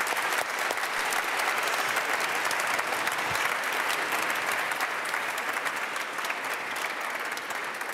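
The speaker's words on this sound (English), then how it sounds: "please join me in applause for our panel" Steady, dense applause from an audience at a business panel, a continuous wash of clapping that holds evenly for several seconds with no voices over it.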